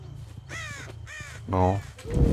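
A crow in the horror game Dead by Daylight gives a few harsh, close caws in quick succession over a low background hum, with the last call the loudest.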